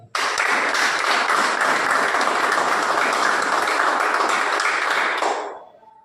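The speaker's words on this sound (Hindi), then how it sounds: "मैं चाहता हूँ नेहा जी के लिए अब तक की जोरदार ताली।" Loud, sustained applause from an audience at a level celebration event honouring Neha, dense clapping filling about five seconds before fading out quickly at the end.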